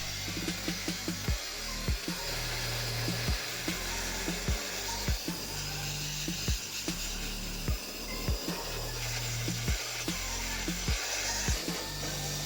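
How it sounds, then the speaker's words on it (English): A MECO ME-CA3 electric air blower blasts dust out of a PC, a loud continuous whooshing roar broken by regular clicking pulses throughout. "The air blower will do the major part"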